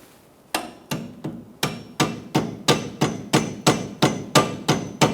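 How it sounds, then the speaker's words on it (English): A rubber mallet strikes a car's front strut assembly about fourteen times in an even, sharp, loud rhythm, each impact ringing briefly, with no talking. "Using a rubber mallet, push it through."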